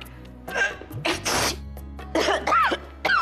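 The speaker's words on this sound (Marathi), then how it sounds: "का खोकता एवढ्या?" A woman's harsh, close coughing comes in several bursts, along with sneeze-like and throat-clearing sounds, against a quiet indoor household background in a Marathi TV serial scene.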